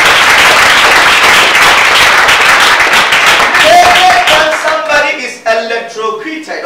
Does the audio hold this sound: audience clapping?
yes